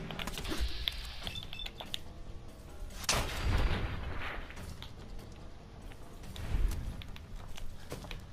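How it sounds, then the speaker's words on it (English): Gunfire in the Fallout 4 video game: scattered sharp shots, with louder bursts near the middle and again toward the end, over quieter clicking and background noise. "Who's shooting me?"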